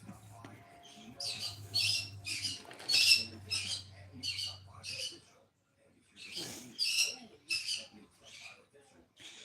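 Pet birds squawk in repeated harsh bursts, several short calls in quick rhythm followed by a pause and another round, close and fairly loud indoors.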